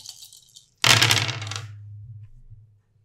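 Six dice rolled together make one sharp, close clattering burst that rattles briefly and settles within about a second, following a moment of faint background noise.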